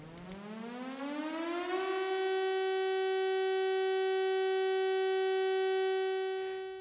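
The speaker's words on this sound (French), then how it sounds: "Très concrètement, les sirènes ont été déclenchées sur les secteurs menacés." Civil defense warning sirens sound during a toxic cloud alert in an estuary area, a single long wail rising from low to a sustained high pitch, loud and steady, then cutting off with a small knock at the end.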